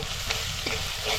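Homemade Konkani red masala is sautéed and stirred in a pan, giving a close, steady sizzle broken by a few scraping spoon strokes.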